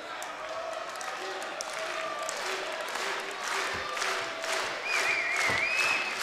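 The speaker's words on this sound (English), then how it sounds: "Huge crowd firmly behind the Velocities." Large wrestling crowd at a SLAM! tag-team championship match cheers and applauds steadily throughout, a dense roar with scattered shouts and a commentator's voice running over it.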